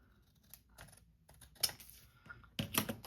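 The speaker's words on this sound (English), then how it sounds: "we're going to cut this little tag off" Scissors snip a small paper tag off a double-sided 12x12 paper craft piece, giving a few quick close cuts and crisp rustles, with a louder burst of snipping near the end.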